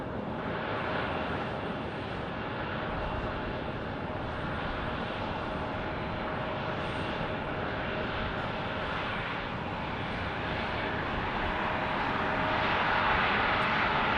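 An Embraer ERJ 170 airliner at Tucson International Airport gives a loud, steady engine roar that holds for the whole stretch and swells slightly toward the end.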